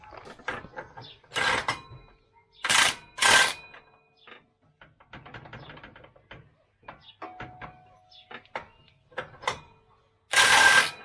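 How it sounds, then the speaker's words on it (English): An impact wrench fitted with a 38mm socket works on a nut of a Cub Cadet 1022 ride-on mower, firing several short, loud hammering bursts separated by quieter clicks and rattling of parts. "This uses a 38mm socket, and you need to use an impact."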